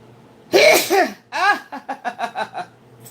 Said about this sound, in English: That's a spiritual sneeze right there for real